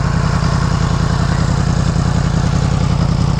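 A Yamaha MT-10 motorcycle with its original exhaust idles close by, a steady, even low rumble with a fast regular pulse and no speech.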